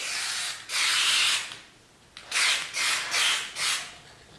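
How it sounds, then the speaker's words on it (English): A paint sprayer in a one-car garage fires loud hissing bursts: one long blast of about a second, a gap, then four shorter spurts in quick succession. "it's spraying out the back too"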